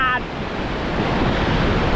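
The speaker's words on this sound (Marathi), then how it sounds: "इथे लाटा बघा" Rough ocean waves break at the shore during a fishing trip in stormy seas, a loud continuous wash of surf mixed with wind buffeting the microphone.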